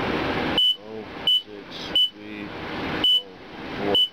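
A car wash machine gives short, shrill electronic beeps at irregular intervals, five sharp tones standing out over a noisy background with some murmured speech in between.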